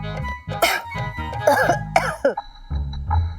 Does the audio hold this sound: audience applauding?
no